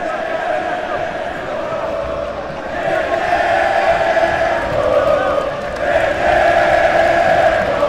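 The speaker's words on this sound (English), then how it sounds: "The crowd is coming more alive for Jansen Gomes." A large arena crowd at a jiu-jitsu world championship middleweight final roars and cheers in sustained swells, growing louder in waves over steady background noise.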